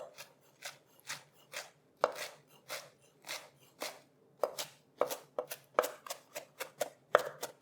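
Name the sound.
chopping ingredients for tomato fritters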